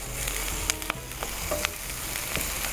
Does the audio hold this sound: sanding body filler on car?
no